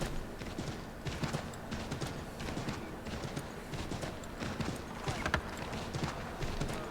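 Horse hooves clip-clopping steadily through Boston streets in Assassin's Creed III, a continuous rhythmic patter at moderate volume with no speech over it.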